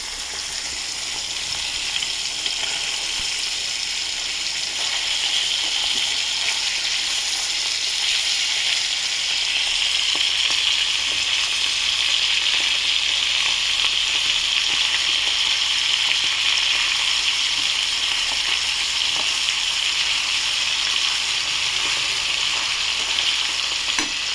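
Steady, loud sizzling of black cumin seeds frying in oil after fish, a continuous crackling hiss with no pauses and no voices.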